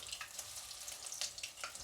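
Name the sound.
fish frying in oil in a pan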